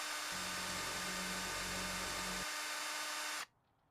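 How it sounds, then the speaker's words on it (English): A power drill whirs while drilling holes in furniture in the video game House Flipper 2, a steady motor whine lasting about two seconds that ends abruptly under a constant background hum, followed by near silence. "we gotta screw in, or drill, some holes in this part"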